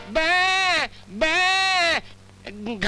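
A man imitates a goat in a Hindi film scene, letting out two long, loud, quavering bleats in succession before a few shorter vocal sounds follow.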